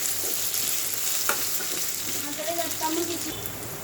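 Raw banana curry frying in a pan with salt and turmeric, a steady close hiss of sizzling oil with light scraping and stirring strokes throughout, no talk.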